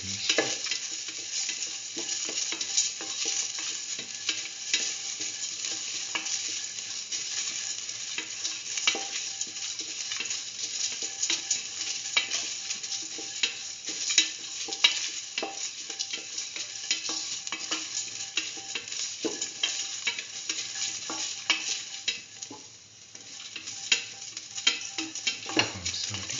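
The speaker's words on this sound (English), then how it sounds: "Saute shallot pieces added in the rest of the mixture." Shallot pieces sauté with other ingredients in a pan while cooking a mustard chicken rice dish, giving a steady sizzle with frequent stirring scrapes and ticks that stay close and even throughout, no talking.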